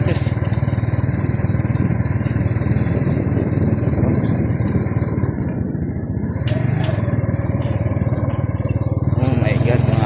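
A motorcycle rides along a rural road, its engine a steady low drone throughout that swells slightly near the end, with a person talking over the ride.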